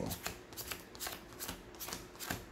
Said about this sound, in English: Let's do a power shuffle. Show you guys the power shuffle.